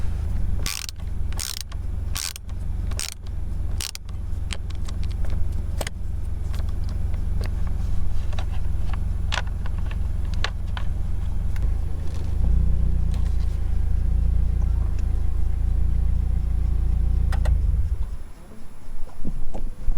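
A Toyota GR86 / Subaru BRZ engine idling in a parked car, a steady low hum under sharp clicks and ratchety clatter from nearby work, running evenly until it cuts off near the end.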